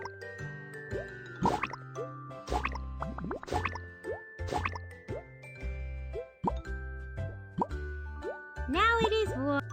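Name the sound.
sponge washing and shower water in BabyBus video game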